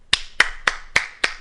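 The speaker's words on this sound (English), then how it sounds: "Station master applauds." Five sharp, evenly spaced hand claps from a single person, a station master, ringing out close and crisp with short decays in between.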